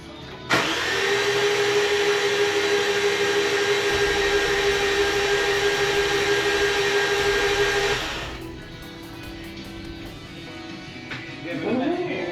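A RAM engine with all 16 spark plugs removed spins over on the starter, a loud, steady whirring drone lasting about eight seconds before cutting off, followed by quieter clatter and faint rustling.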